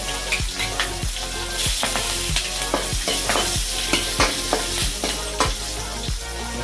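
Cumin seeds, curry leaves and green chillies sizzle hard in hot tadka oil for dahi tadka, a loud continuous frying hiss broken by regular scraping knocks of a stirring spoon against the pan.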